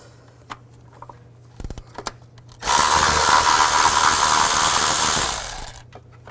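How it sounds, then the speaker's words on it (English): A 12mm socket drives out a valve cover bolt on a 2005-2015 Nissan Xterra, a few faint clicks followed by a single loud, steady whirring burst of about two and a half seconds, close by. "use a 12mm socket to take this bolt out"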